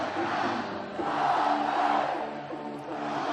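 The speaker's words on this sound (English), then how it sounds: "wants the crowd to get louder" Football stadium crowd at a Georgia Southern home game against Old Dominion, a broad roaring cheer that rises and swells in the middle and then eases slightly, continuous and distant-sounding.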